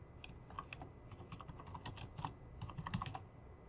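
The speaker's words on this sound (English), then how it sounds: "And then type report title," Someone types on a computer keyboard while entering a report title in Microsoft Word, a quick irregular run of soft close key clicks with no talking.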